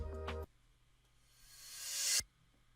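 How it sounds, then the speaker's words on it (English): A reverse cymbal swell in an Afrobeats instrumental beat rises steadily in loudness to a sudden cutoff, preceded by a short sustained synth chord that stops abruptly. "more like a reverse cymbal that came in at different intervals in the song"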